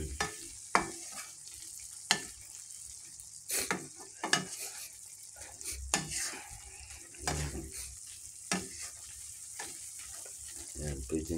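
Food fries and sizzles in a pan while a utensil stirs it, with sharp scraping clacks against the pan at irregular intervals over a constant hiss.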